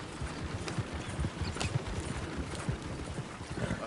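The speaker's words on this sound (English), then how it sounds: "Oh, shit, the horses!" Horse hooves clip-clop in a steady trotting rhythm, with a brief whinny heard over a noisy background.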